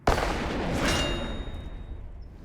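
A single loud gunshot is fired at a foot artillery sword blade in a bullet test, a sharp close blast followed by a long rumbling decay and a faint ringing tone.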